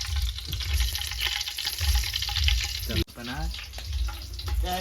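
Whole spices, bay leaf, cloves and star anise sizzle in hot oil for chicken biryani, a steady close frying hiss with brief clatters, and voices talk over it.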